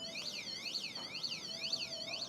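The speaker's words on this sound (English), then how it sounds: "Alarm." On a street in China an electronic alarm siren wails, sweeping up and down in a steady repeating cycle, fairly loud and continuous over a faint street background.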